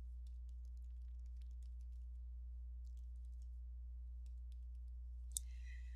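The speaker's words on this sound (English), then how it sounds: "So I'm just going to type my name." A computer keyboard typing a name in a quiet room: a string of light, quick key clicks over a steady low electrical hum, ending in a sharper single click.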